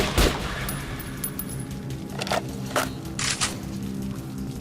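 Gunfire in the first-person shooter Metro Last Light, a burst of sharp cracks followed by scattered shots and bright metallic hits over a dense, rumbling game soundtrack.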